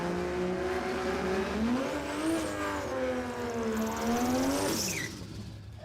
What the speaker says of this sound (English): The RX-7, it's got an LS in it and tricky gearbox, and he's got to still get the clutch dropped,